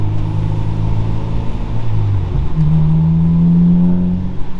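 A Honda Civic EG6 1.6 VTEC engine drones loudly and close, its pitch rising as it revs, then settling into a steady higher hum with exhaust rumble.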